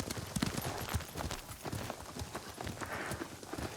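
Horse hooves clip-clop at a steady walking pace in the video game Ghost of Tsushima, fairly faint under a busy mix of ambient game sound, with no talk.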